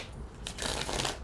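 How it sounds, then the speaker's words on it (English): A deck of tarot cards being shuffled close up, one quick riffling burst of papery flutter lasting about a second. "I'll do one more shuffle"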